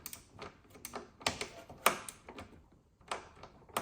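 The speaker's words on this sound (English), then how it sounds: "using that same wrench we talked about earlier, one hand hold the trim open, the other hand go in and unbolt it" A wrench loosens a trim nut on the taillight of a Tesla Model Y or Model 3, giving faint, close, irregular metallic clicks and ticks in short clusters with quiet gaps between them.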